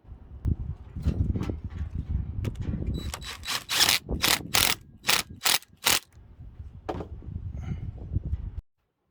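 A rebuilt Honda A/C compressor clutch is tightened with a ratcheting tool, rapid clicking bursts and metallic rattles, then a series of loud sharp clanks as the pulley is spun, close and without speech.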